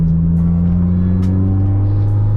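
Honda Integra engine with VTEC drones loudly from inside the moving car, a steady, strong tone that climbs gradually in pitch as it pulls, with no talking.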